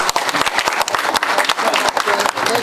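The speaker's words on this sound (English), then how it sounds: "Let's give Brandon Muir a big round of applause." Audience at a presentation clapping after a talk, dense rapid applause from many hands, close and loud, with voices faintly mixed in.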